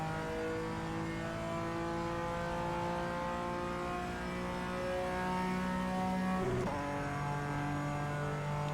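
A high-revving race car engine in the iRacing sim, racing in the rain at The Roar 2025, drones steadily with a strong harmonic whine, climbing in pitch, then briefly dips and recovers as if shifting gears.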